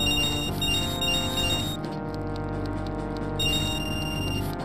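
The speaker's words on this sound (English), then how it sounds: "That's the sound of taking the rupees coming out of your wallet and into the bank" Rupees being deposited into the bank in Zelda Majora's Mask, a continuous run of high chiming game tones over a steady musical background, with a short dip in the middle before the chimes resume.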